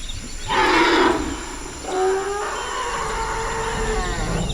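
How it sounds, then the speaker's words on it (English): Heavy roars from some large wild animal in a dark, damp, humid forest, two long bellowing calls about a second apart, loud and close, followed by a lower rumbling growl with no talking. "And then you hear these kind of roars."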